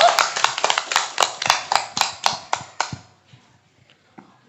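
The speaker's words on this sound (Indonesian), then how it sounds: "Tepuk tangan untuk Desa Sukamenak" A small group claps for Desa Sukamenak at a regional government gathering in Sumedang, about a dozen loud, rhythmic hand claps in unison that stop after about three seconds and give way to near silence.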